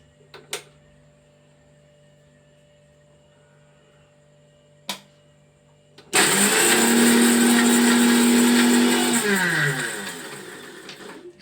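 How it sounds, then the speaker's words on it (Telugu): A kitchen mixer grinder grinding curry ingredients: a few sharp clicks and knocks, then the motor whirs on loudly and steadily for several seconds, close by and alone, before winding down at the end. "మిక్సీ పట్టుకోవాలి 3ని"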